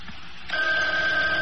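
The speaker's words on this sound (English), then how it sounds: "it's the phone ringing, Mother" After a moment of low room noise, a telephone starts ringing abruptly with a steady electronic tone that sounds thin and distant, holding without pause to the end with no talking.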